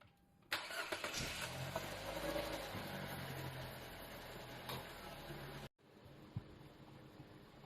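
A car whose air conditioning cools poorly in hot weather is started: after a brief quiet moment the engine catches abruptly and runs steadily for about five seconds, then cuts off sharply.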